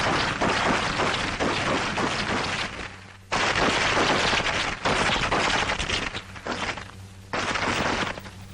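Close combat weapons fire in a 1943 army training demonstration, loud sustained bursts of rapid gunfire that stop briefly and then resume.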